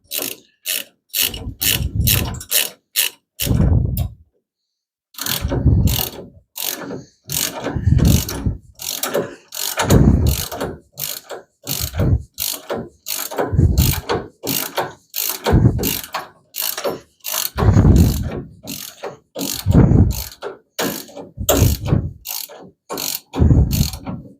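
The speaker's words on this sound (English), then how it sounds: "I should get out my torque wrench" A torque wrench ratcheting on front suspension bolts of a 1975 Plymouth Duster, loud close clicking ratchet strokes in repeated bursts separated by short pauses, steady rhythmic cranking throughout with no speech.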